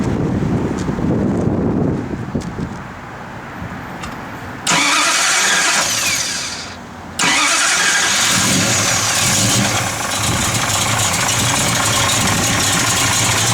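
A 1970 Plymouth Duster with a matching-numbers 340 V8 and a mild cam cranks, catches and roars to life, then stumbles briefly before settling into a loud, steady run, with wind buffeting the microphone.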